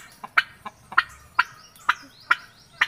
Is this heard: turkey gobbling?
yes